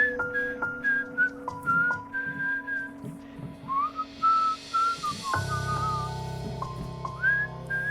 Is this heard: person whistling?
yes